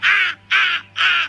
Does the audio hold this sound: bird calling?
yes